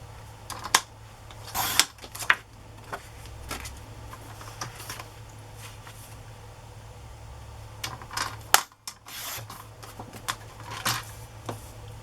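Scissors snip through vintage paper ephemera while a collage tag is being trimmed, giving a scattering of short, crisp cuts and rustles close by in a quiet room with a low background hum.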